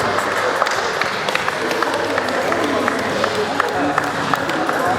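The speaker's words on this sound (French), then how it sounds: "On peut l'applaudir? On peut l'applaudir." A crowd claps and cheers for the MVP at a Ball'N Rise Tour basketball event in Le Mans, producing a dense, steady wash of applause with scattered sharper claps across the whole stretch, while voices mingle throughout.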